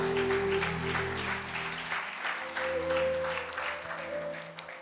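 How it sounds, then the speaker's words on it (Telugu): A congregation at a sermon applauds. The clapping is dense and fairly loud over sustained musical tones, then thins and fades within a few seconds. "గట్టిగా చప్పట్లు కొట్టండి సరే."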